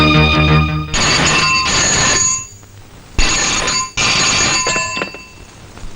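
An old-style telephone rings in an office, loud metallic bell bursts repeating in pairs with short pauses between them, close and clear with no voices over it.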